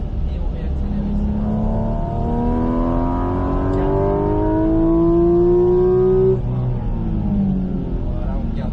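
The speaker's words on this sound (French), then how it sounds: "On lâche le frein, le filet de gaz et on réaccélère ici." A car accelerates on the Circuit de Bresse race track, its engine note climbing steadily in pitch for several seconds before easing off and building again, with a voice talking over it.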